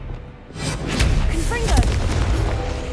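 In the game Hogwarts Legacy, an Expelliarmus disarming spell goes off as a deep, booming blast with a low rumbling tail, sitting amid busy combat sounds.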